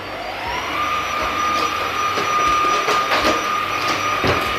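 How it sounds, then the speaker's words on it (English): A household vacuum cleaner runs steadily while the house is cleaned, a loud continuous motor whine with a rising pitch as it spins up and brief bumps and knocks over the top. "So I have just finished vacuuming the house and spritzing everywhere."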